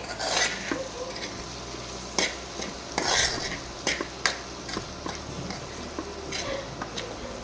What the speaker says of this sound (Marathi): धना पावडर आणि हळद छान असं परतून घ्यायचं आहे